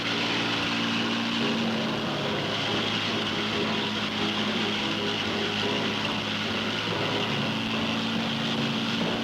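Propeller racing plane with a four-ton metal airframe, pushed to full throttle at a low-level air race, gives a loud, steady engine roar that drones on without a break and with no voices.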